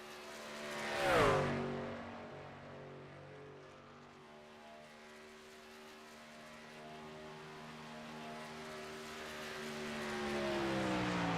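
A race truck on a lap of Auto Club Speedway roars past nearby with a rising then falling pitch, then its engine whine fades into the distance and slowly builds again.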